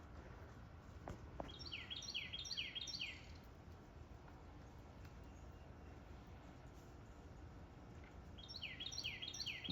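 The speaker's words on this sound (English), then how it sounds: "The birds are singing." Birds singing outdoors in an icy, wintry yard where squirrels feed on pecans, with repeated high chirping phrases in two bursts, at the start and near the end, over a steady broadband background noise; no talking.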